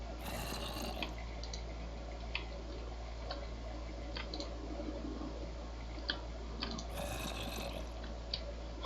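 Flowing water in Minecraft filling a spot beneath a block, a steady wash with scattered soft ticks and clicks and two brief brighter bursts at the start and near the end.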